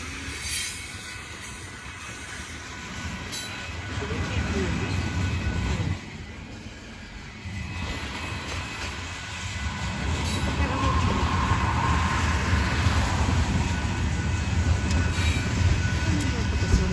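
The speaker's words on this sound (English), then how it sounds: "Trains are so fascinating." A train passing close by, a loud rumbling roar of rolling railcars with a high squeal from the wheels, building in intensity and running continuously to the end.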